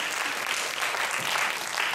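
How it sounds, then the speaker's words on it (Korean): Applause from a church congregation during a Sunday sermon, steady dense clapping that fills the whole stretch at a moderate level with no voice over it. "박수 한번 쳐주세요"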